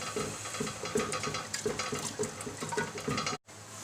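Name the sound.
chickpea boiling water poured into cooking pot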